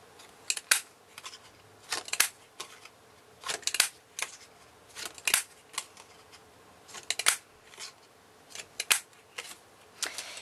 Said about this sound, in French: je vais découper 6 petits cercles avec ma perforatrice 1 demi-inch